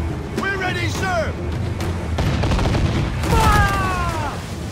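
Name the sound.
ship cannons firing, from video game Assassin's Creed IV: Black Flag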